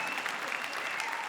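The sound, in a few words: audience applause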